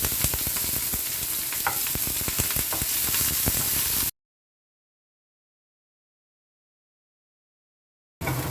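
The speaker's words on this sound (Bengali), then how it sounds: "পেঁয়াজটা ভাজা হয়ে গেছে" Garlic, green chillies and onion fry in hot oil with a steady, dense sizzle and occasional stirring clicks, loud and close, before cutting to silence and returning briefly.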